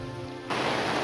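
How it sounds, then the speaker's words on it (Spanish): Heavy rain hammers on a canvas roof on a jungle expedition trail to El Mirador. A quieter humming background gives way halfway through to a loud, dense, continuous roar of rain. "Como pueden escuchar, llovió muy fuerte."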